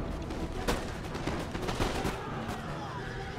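Militiamen firing muskets in a video game battle of Empire Total War, a dense crackle of overlapping shots at mid distance with someone talking over it.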